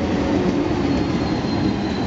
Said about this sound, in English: The local train to Interlaken East, or Interlaken Ost. With a similar sort of train.